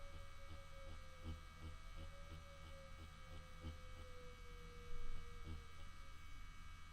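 A permanent makeup machine hums with a faint, steady electric drone as its needle slides over a surface, quiet and continuous with light pulsing and no voices.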